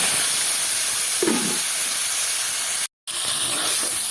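Pointed gourds (potol) coated in salt and turmeric sizzle in hot white oil in a kadai, a loud, steady hiss that fills the whole stretch, with one brief cut-out near the end.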